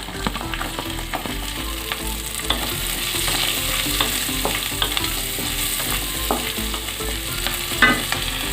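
Garlic, ginger and chili fry in hot oil with dry spices in a pan, giving a steady close sizzle broken by repeated scraping stirs of a utensil against the metal.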